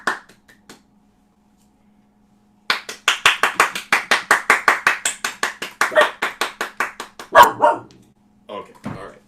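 A dog barks in a rapid, steady run of about twenty sharp, close barks, capped by one louder burst, with a few faint sounds after; it happens indoors during a small home music jam session.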